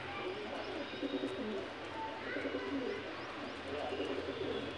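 Pigeons coo softly and steadily in a low repeated rumble, faint and close, under a constant background hiss with other bird noises mixed in.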